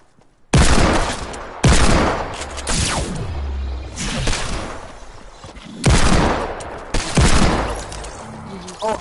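Video game gunfire from a hand cannon and pump shotgun: several loud, sharp blasts in quick clusters with echoing tails, spread across the clip, while players talk underneath.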